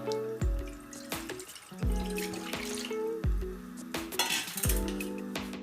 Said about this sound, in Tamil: இப்போ பாஸ்தா வேகிறதுக்கு தேவையான அளவு தண்ணி ஊற்றிக்கலாம்.